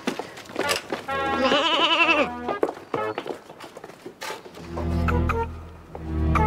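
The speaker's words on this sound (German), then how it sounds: "Nur ein Ziegenbock ist vorbeigerannt." A billy goat gives a wavering, drawn-out bleat midway through, surrounded by short bursts of voices and other noises.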